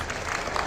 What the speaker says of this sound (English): And they applaud.